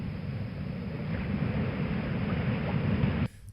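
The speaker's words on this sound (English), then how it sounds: "The sound of the ocean." Recorded ocean waves wash in as a steady, loud, broadband roar with a wind-like rush, continuous for about three seconds before cutting off abruptly into near silence.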